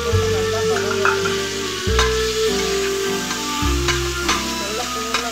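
Tomato and onion fry together in a pan with a continuous soft sizzle, occasional stirring clicks, and background music playing underneath.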